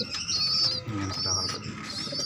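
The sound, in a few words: pigeons cooing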